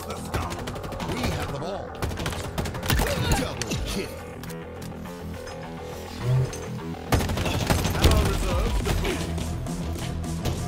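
Assault rifle fire from the game Halo Infinite, with dense rapid bursts of shots layered over game effects and a voice talking throughout, loud and continuous with brief lulls.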